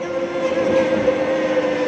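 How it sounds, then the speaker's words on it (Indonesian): A Rapid KL LRT train on the Kelana Jaya line runs as a steady, loud rumble with a sustained tonal whine, close by and continuous, with no talk. "LRT ini mempunyai 2 jalur, yaitu jalur Kelana Jaya dan jalur Ampang."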